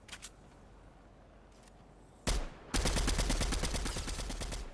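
Rapid automatic gunfire in the video game Fortnite, with a single sharp shot followed by a sustained loud burst of dense, evenly spaced shots that fills the rest of the moment, no talking.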